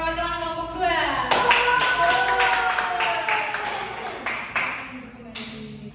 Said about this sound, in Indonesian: Dikasih tepuk tangan dulu buat perwakilan kelompok 2